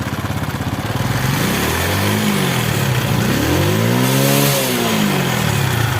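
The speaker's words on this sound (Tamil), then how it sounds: "ரேஸ் பண்ணாலும் கரெக்டாக இருக்குது." TVS XL100 BS6 moped with a faulty engine temperature sensor, its engine revved up and down in two rising-and-falling sweeps, loud and close, no voices.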